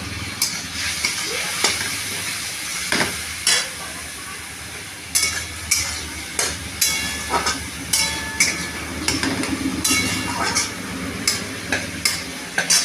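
Papaya and potato curry (dalna) sizzling in a pan after a little water is added, with close, loud, repeated scraping strokes of a spoon stirring against the pan over a constant frying hiss.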